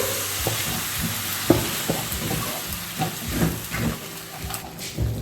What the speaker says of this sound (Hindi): अब सारे मसाले को अच्छे से मिक्स करेंगे।